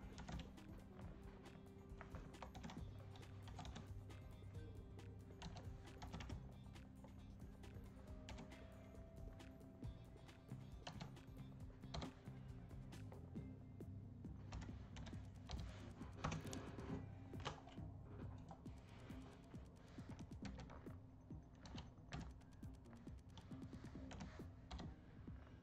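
Steady typing on a computer keyboard, a long run of quick, light key clicks close by with brief pauses, faint and continuous under a low background hum.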